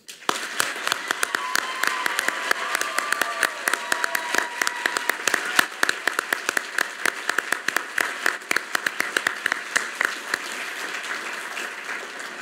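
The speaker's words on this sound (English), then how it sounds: "Please join me in saluting, with a grand round of applause, the November 2023 United States Naval War College graduates." A large audience applauds the November 2023 graduates of the United States Naval War College at a fall graduation ceremony, sustained crowd clapping with many distinct sharp claps standing out over the dense wash, steady and loud throughout.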